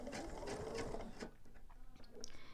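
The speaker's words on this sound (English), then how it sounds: "I'm just going to backstitch." A sewing machine backstitches through quilt binding and quilt fabric, a quiet rapid whirring burst of stitching that stops after about a second, followed by faint mechanical clicks and handling noises.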